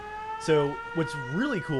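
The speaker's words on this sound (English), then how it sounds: "Air raid siren." An air raid siren sounds at a Fallout 4 settlement as a steady wailing drone with rising and falling sweeps, partly masked by someone talking over it.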